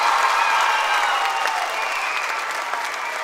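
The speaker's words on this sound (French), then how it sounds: "on applaudit les sparkles bien fort" An audience applauds the Sparkles dance troupe at the TIMAMBO 2014 show, a steady, dense wash of clapping that stays loud and even throughout with no voices on top.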